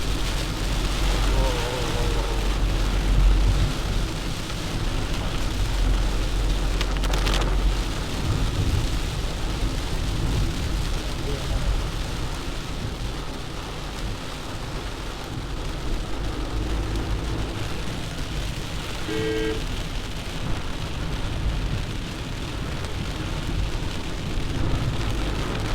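Heavy rain pouring over a car driving through the ghats on the way to Coorg, heard as a constant loud roar of rain and road noise from inside, with low rumbles and a faint brief tone.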